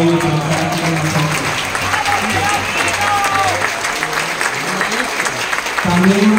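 Loud applause from an audience at a neighbourhood gathering, a dense patter of clapping that runs throughout while a speaker's voice comes through over it.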